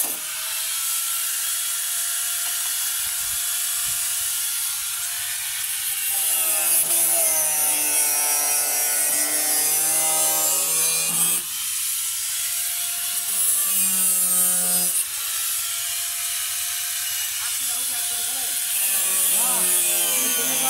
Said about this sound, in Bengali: এখন হবে এই সব নাট কাটা।